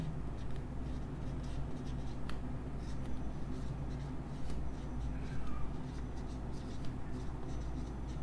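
Marker squeaking and scratching on a board during an organic chemistry lecture, faint intermittent strokes over a steady low hum and room noise.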